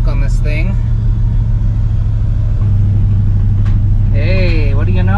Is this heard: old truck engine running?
yes